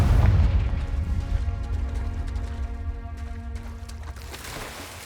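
One Confringo blasting spell from Hogwarts Legacy erupts in a deep close boom that trails off into a rumbling, ringing tail with faint crackles over several seconds.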